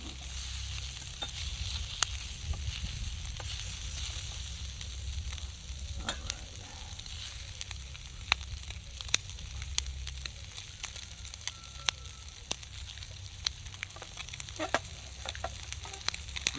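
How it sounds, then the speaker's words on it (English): Corned beef sizzles and fries steadily in an aluminum WWII mess kit pan over a firebox stove, with soft crackles, pops and occasional scraping stirs, close and quiet without talk. "so let's try to get a little bit of a browning on here"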